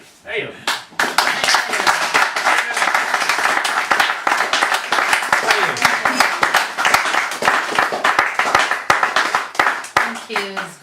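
An audience applauds poet Steve Tasane at a live poetry event, a sustained burst of dense clapping from many hands that swells quickly and carries on steadily, with voices talking over it.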